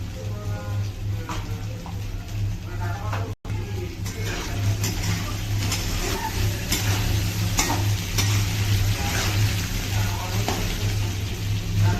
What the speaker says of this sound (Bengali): ওই জন্য আমি একটু লবণ দিয়ে ভেজে নিচ্ছি আলুটা।